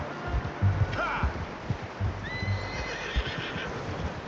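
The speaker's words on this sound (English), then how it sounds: "How's that new horse?" A horse in the video game Red Dead Redemption 2 gives loud whinnying neighs over soft clip-clop hoofbeats, with faint background murmur.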